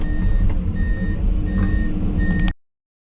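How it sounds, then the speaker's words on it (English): A truck's reversing alarm beeps in a steady repeating pattern over a loud diesel rumble as it is loaded from a screener belt, ending abruptly in silence. "just got truck driver loading himself now"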